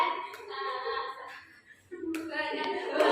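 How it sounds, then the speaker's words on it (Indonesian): Classroom applause as students clap their hands together on cue during a junior high science lesson, a dense burst of clapping that dips briefly midway and then resumes, louder toward the end. "Tepuk tangan."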